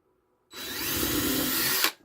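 A power drill whirs steadily for about a second and a half, countersinking holes in a wooden jig base, close and loud, starting abruptly after silence and cutting off cleanly.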